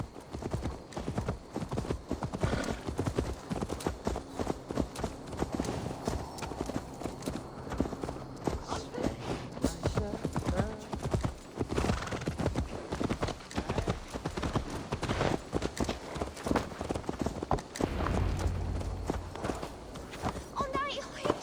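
Horse hooves clip-clop steadily in Assassin's Creed Valhalla, a continuous walking rhythm of hoof strikes heard alongside ongoing speech and game ambience.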